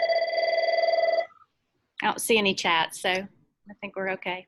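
A telephone rings with a bright electronic warble for about a second, then stops, followed by a person speaking close by.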